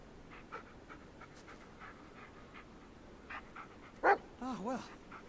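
A dog in the Blair Witch horror video game pants softly and steadily, then gives a couple of short, louder yelps or barks and a whining whimper near the end, against a quiet forest ambience.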